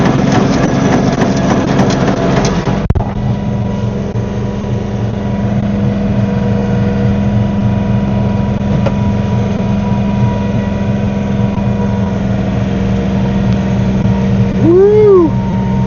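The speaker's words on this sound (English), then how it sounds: "I just use the tractor and go forward and backwards" A John Deere tractor fitted with a snow blower runs steadily, its engine droning loud and close with a constant whine from the blower, a brief clunk early on and a rising squeal near the end.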